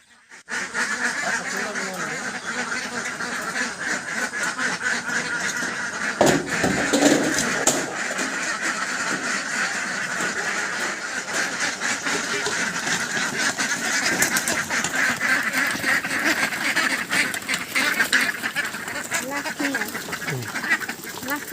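Flock of ducks at a duck farm quacking and honking loudly and continuously, many birds calling at once close by, with a brief louder burst partway through.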